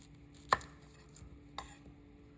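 A chef's knife cuts the top and bottom off an onion on a board in two sharp, close chops about a second apart, the first louder, with a quiet room in between.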